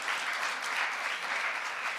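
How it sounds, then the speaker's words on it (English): A crowd applauds at a congress opening ceremony in a short, steady burst of clapping, moderately loud and continuous with no voices on top. "Please give them all a round of applause."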